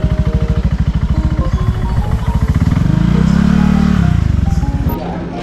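A motorcycle crosses a footbridge over a Bangkok Yai canal, its close engine putting out a steady rapid pulse that swells and revs up through the middle before easing, with no talk over it.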